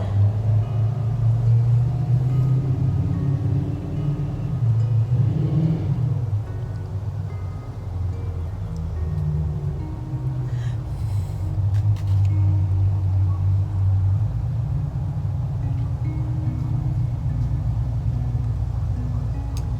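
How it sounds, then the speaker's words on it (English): A motorcycle engine rumbles steadily in the background outdoors, a low sustained drone that swells and holds for about twenty seconds without fading away. "Giving it a moment for the motorcycle to go away."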